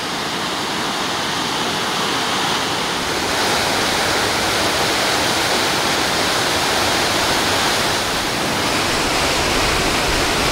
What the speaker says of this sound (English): a lot of water flowing over those falls right now.